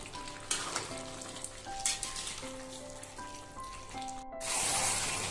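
Chicken curry with onions and vegetables frying in a pan, a constant close sizzle with faint tonal background sounds and a louder hissing burst at the end.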